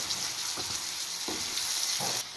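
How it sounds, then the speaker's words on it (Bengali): Thinly sliced potatoes frying in fish oil, with a steady bright hiss of sizzling and three soft scraping stirs at even intervals, close and fairly quiet. "এবার আমি মাছের তেলে কেটে রাখা আলুগুলো ফ্রাই করে নেব"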